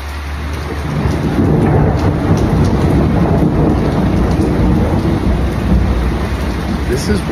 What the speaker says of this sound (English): We've been having rolling thunder, which is a first.